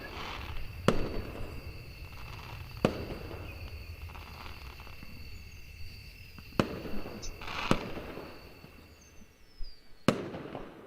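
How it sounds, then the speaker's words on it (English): Fireworks rockets launching and exploding in a visual novel, Angels with Scaly Wings: scattered sharp bangs and crackles at irregular intervals, with faint whistling launches between bursts, moderately distant. "I heard the sound of the first rockets making its way into the night sky, after which it exploded into a pattern of colors."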